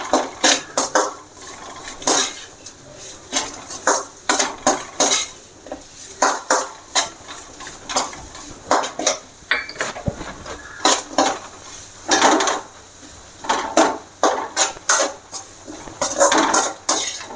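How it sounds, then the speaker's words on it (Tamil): Pieces of jaggery and apple are broken up in a pot for apple rasam. Repeated close clinks and scrapes of a utensil against metal come in uneven bursts, with no talking. "ஒன்று 2 துண்டை நல்லா உடச்சி விட்டு அதை வச்சுருக்கோம் இல்லையா, வெல்லத்தை உடச்சி அந்த வெல்லத்தையும் அதில் சேர்த்துக்கலாம்."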